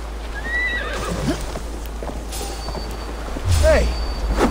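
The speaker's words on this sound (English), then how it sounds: "That horse is gonna blow our cut." A horse in Assassin's Creed Valhalla whinnies twice over a low steady rumble, with clopping hooves and a voice talking in the background.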